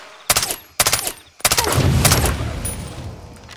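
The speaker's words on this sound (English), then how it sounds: "See how pleasant it is using an assault rifle with a suppressor on it?" A suppressed F1 assault rifle fires in Far Cry 3: two short muffled bursts, then a longer rapid string of shots that trails off into a lingering rumble, loud and close.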